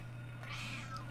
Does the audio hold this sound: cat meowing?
yes